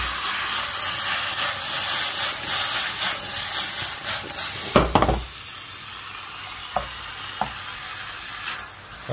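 Vegetable julienne searing in olive oil in a hot pan, a steady loud sizzle with occasional stirring clatters, then the hiss drops sharply to a quieter, softer fry with a few sharp utensil taps.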